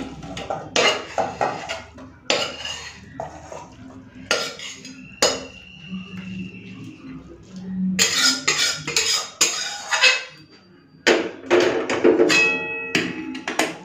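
A pan of cooked cabbage with a fish head being tipped out: close metallic scraping and clinks of a spoon against the pan come in irregular bursts with short pauses, and nobody speaks.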